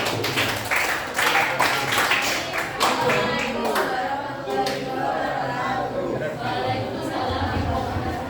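Classroom applause for the first student group after their presentation, scattered hand claps and taps mixed with chatter and voices of students, moderately loud and close throughout.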